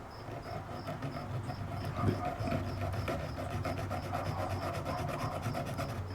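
Steady scratchy rasping of a sanding stick on wood for a model ship, continuous and close, with a faint high insect-like whine running through the background.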